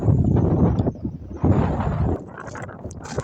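Gusty wind blowing outdoors at a lakeside fishing spot, roaring loud and steady against the microphone in strong buffeting surges that ease toward the end.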